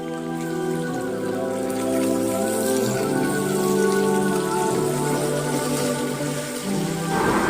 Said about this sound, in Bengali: প্রথমে মাছটাকে লবণ, মরিচের গুঁড়া, হলুদের গুঁড়া মাখিয়ে মাছটাকে ভেজে নিচ্ছি।